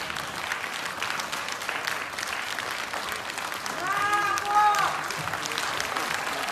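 Sustained applause from a festival audience honoring flutist Sasha Savelyeva, steady crowd clapping throughout with a brief tonal flute-like or voice phrase rising briefly in the middle.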